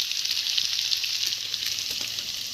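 Pasta tipped into a hot frying pan with spices gives a steady, bright sizzle that hisses evenly throughout, close and fairly loud, with no talking.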